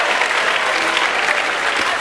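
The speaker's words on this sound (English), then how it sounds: "give the new husbands and wife a clap offering" A church congregation applauding newlyweds fills the space with a steady, dense clap of many hands, loud and continuous throughout.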